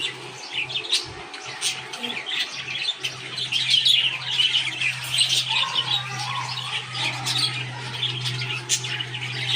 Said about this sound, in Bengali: আর এখানে হচ্ছে আমাদের পাখিগুলো আছে